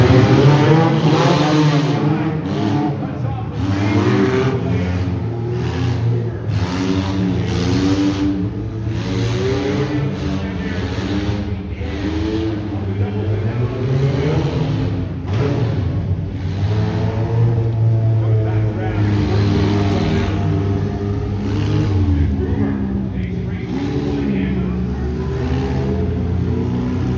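Mini Monsters racing vehicles circle a track at a motorsports show, a continuous loud engine drone rising and falling through the laps, with an announcer talking throughout.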